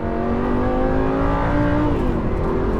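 A Lamborghini 550/2 Valentino Balboni pulls hard at full throttle, its engine note climbing steadily in pitch, loud and close, then dipping briefly near the end as the revs change.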